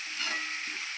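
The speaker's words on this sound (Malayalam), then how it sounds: "സവാള ഇട്ടൊന്ന് ഇളക്കി കൊടുക്കാം" Sliced onions hiss and sizzle in hot oil in a pan while being stirred for simple noodles, giving a steady, close frying sound over one brief moment.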